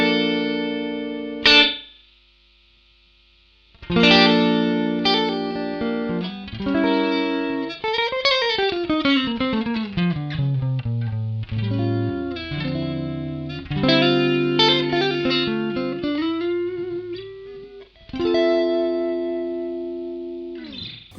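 An electric guitar plays through an Ibanez ES3 Echo Shifter analog delay pedal with the feedback turned up. Loud, sustained notes repeat and smear into trailing echoes, with pitch glides and a brief silence near the start.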